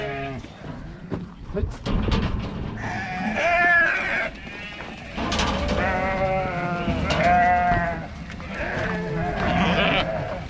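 Sheep bleating repeatedly, several loud wavering calls close by, mixed with people talking and laughing.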